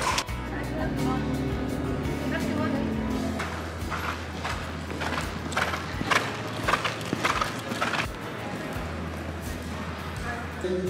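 Horses walk on a warm-up arena before a horse show, their hooves giving a soft, irregular clip-clop at close range. It runs under a low engine-like hum and some background voices.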